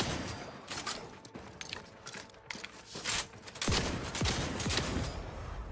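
Rapid bursts of shotgun fire in a sci-fi shooter game crack out in quick succession over a noisy battle backdrop, with a heavier run of blasts near the end.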